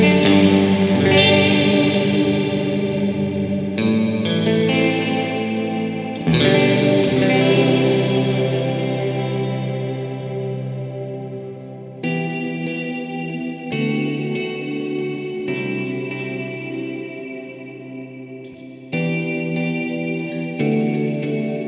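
Guitar chords ringing through a Wampler Catacombs reverb and delay pedal, each strum blooming into a long, lush shimmering tail that slowly decays before the next chord, with several chords in sequence.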